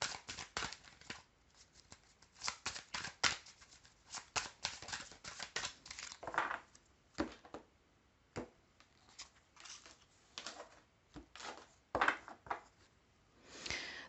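Oracle cards are shuffled during a reading in a run of quick, irregular riffling and slapping bursts with short pauses between them, fairly close and soft, with no voices.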